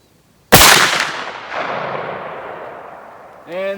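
A single loud 32 gauge shotgun blast firing a TPF Hunter sabot slug at an outdoor range, with a sharp report and a long echo decaying over several seconds, followed by a voice at the end.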